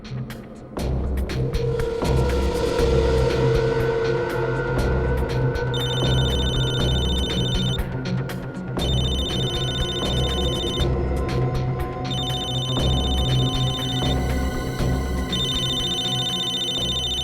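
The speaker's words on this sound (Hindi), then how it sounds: "दया इसके मोबाइल पे क्यों फोन कर रहा है?" A mobile phone rings in repeated electronic bursts, each lasting a couple of seconds with short gaps, over a steady low hum and background music in a dramatic crime-drama scene.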